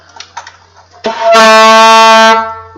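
A saxophone blares a single loud, harsh, buzzy sustained note, deliberately poor tone, after a few faint clicks, then cuts off abruptly.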